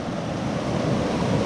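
The Sandy River on Mount Hood rushes past a log crossing in steady, loud broadband whooshing water noise, continuous throughout with some wind buffeting and no voices.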